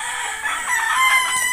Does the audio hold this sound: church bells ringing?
no